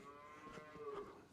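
Cattle moo on a farm at feeding time with barley, a drawn-out lowing call that swells and fades over a second, fairly close against quiet barnyard background.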